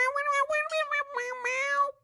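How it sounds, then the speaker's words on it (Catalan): A cat meows close up in a quick, chattering string of several connected meows, clear and alone with no talk over it. "El gat pregunta que si volem saber què ha passat amb el Piquito."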